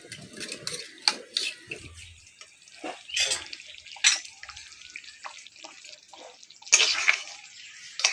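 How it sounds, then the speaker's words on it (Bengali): Water poured over three spoons of cornflour and stirred together in a small bowl, giving close, irregular splashes, trickles and spoon clinks with short pauses between. "এবার জল দিয়ে দেবো, এটা ভালো করে গুলে নেব।"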